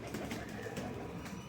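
Breeding pigeons coo softly and steadily in a loft, the low, throaty calls faint and continuous across the short stretch with no talking.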